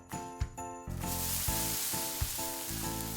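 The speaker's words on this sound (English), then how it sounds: "We're gonna add the guanciale in the pan and we're gonna bring it back to the stove." Guanciale sizzles in a pan with a little vegetable oil, a bright steady frying hiss broken by light clinks and short stirring pulses.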